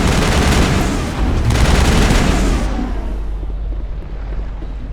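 Heavy crossfire in Mass Effect, a loud, dense wash of overlapping weapon blasts and booms that roars for a few seconds before settling into a lower rumble.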